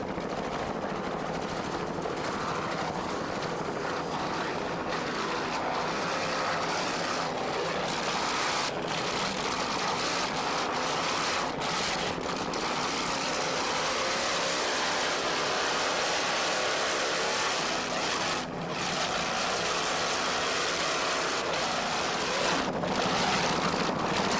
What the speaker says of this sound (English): Let's listen to those two 750 horsepower Chevy engines.